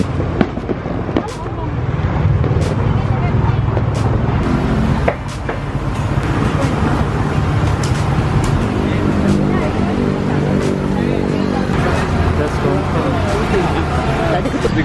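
Dense road traffic on the MRR2 highway in Kuala Lumpur on the eve of Hari Raya, a steady broadband roar of passing cars with low engine rumble and occasional sharp clatters, nearby people talking underneath throughout.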